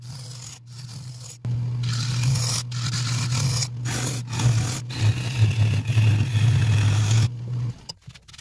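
Woodturning gouge cutting a tall sissoo wood bowl on a lathe, a steady close scraping hiss over a low motor hum, with brief pauses where the tool lifts off the spinning wood.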